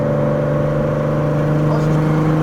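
Steady drone of a Peugeot 206 VR6 on the road, rear tyre rolling noise blended with a constant engine hum, close and even with no talk throughout.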